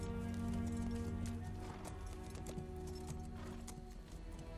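A horse trotting unhurriedly, its hooves making a steady, rapid clip-clop rhythm over a continuous low background drone, fairly quiet throughout.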